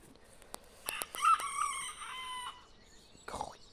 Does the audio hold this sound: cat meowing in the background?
no